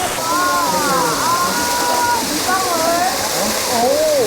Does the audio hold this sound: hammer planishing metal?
no